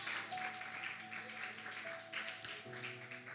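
A congregation applauding during a Portuguese-language church communion service, a steady wash of many hands clapping at moderate distance, with sustained organ or keyboard tones underneath, fairly quiet throughout.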